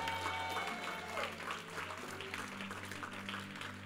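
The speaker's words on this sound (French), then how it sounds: "Acclamez, acclamez, acclamez." Church congregation applauding together during a worship service, a steady wash of clapping hands with voices mixed in beneath it, holding at a fairly even level throughout.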